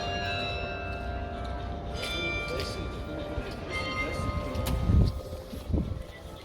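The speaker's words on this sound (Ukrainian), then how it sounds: "Дзвонять ззаді в дзвіниці" A peal of church bells rings from a bell tower in Riga, steady overlapping strokes with sustained resonance, while someone talks over them and brief handling bumps occur near the end.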